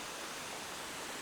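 A waterfall pours into a lagoon and feeds a creek, producing a steady, dense rushing roar of water with no breaks.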